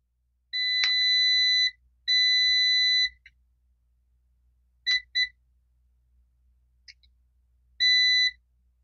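A multimeter in diode test mode beeps while probing diodes on a faulty set-top box power supply board: two long steady tones, then short double beeps and a brief chirp, then another long tone, loud and alone.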